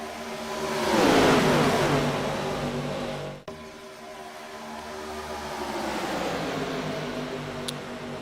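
Race car engines in an iRacing ARCA Series stock car race, a loud engine drone that swells and sweeps past, cuts off abruptly, then a fainter field of cars builds again at a distance.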